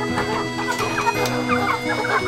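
Crossbred village chickens clucking and murmuring in a busy flock, continuous overlapping calls at moderate distance over a steady farmyard hum.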